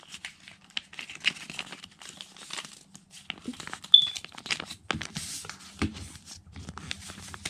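Paper being folded into an origami fox, soft close crinkles and creasing rustles arriving in scattered bursts with quiet pauses between them, fairly faint overall.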